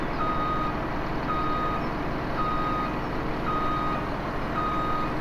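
A truck in Farming Simulator 17 backs up, its reversing alarm beeping in a steady, evenly spaced rhythm of about one beep per second over a constant loud engine rumble.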